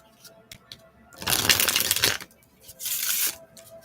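Tarot cards are shuffled in two close bursts of rapid papery riffling, each lasting about a second, separated by a short pause, with light taps and handling before and after.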